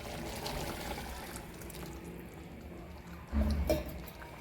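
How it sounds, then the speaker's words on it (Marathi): A pot of water is poured into moth beans sautéed in spiced tempering, a short splashing gush near the end after a quiet stretch of faint kitchen background. "आता मी याच्यामध्ये 1 तांब्या पाणी टाकून घेणार आहे मटकी शिजण्यासाठी."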